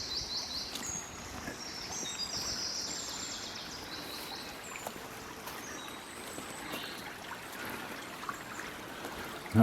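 A woodland stream in Lawton Woods, UK, runs and trickles steadily nearby, a continuous gentle wash with faint birdsong above it and no voices.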